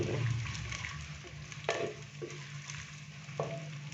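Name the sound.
chopped onion frying in oil, being mixed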